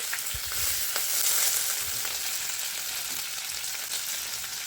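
Curry leaves and a little coriander hit hot oil with fried garlic for a fish curry, giving a steady, close crackling sizzle that runs evenly throughout with no voices.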